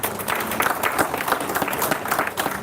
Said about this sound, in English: I think he deserves a big applause.